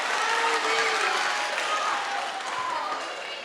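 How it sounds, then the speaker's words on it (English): An audience at a school assembly with an Indigenous hoop dancer claps for volunteers, giving a dense burst of applause that fades slightly near the end. "let's give a round of applause for our volunteers."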